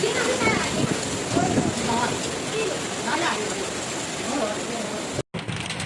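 Wind-driven rain and small hail during a storm in Mandalay, a steady broadband rush with scattered pattering under faint voices, briefly cut to silence near the end.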